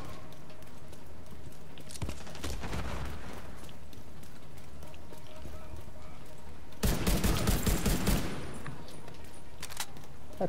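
Gunfire in Tom Clancy's The Division 2, bursts of rapid shots over steady game ambience, one cluster early and a louder, denser volley later, fairly close and sharp.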